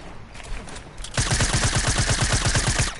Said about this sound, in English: Oh, it's a gunshot.